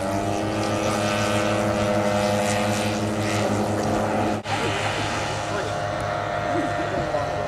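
A radio-controlled model aircraft's propeller engine drones loud and steady at a model aircraft show, a buzzing tone with harmonics that holds through the clip, and people talk over it.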